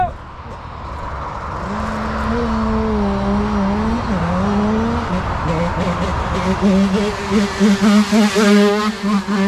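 A Beta 86cc dirt bike engine drones and revs as it is ridden, its pitch wavering and climbing, then breaking into choppy, stuttering bursts near the end.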